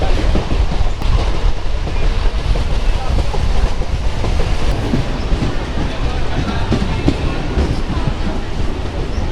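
A train rumbles steadily along the rails with a continuous loud roar and faint rhythmic clatter, heard from inside a carriage with wind noise.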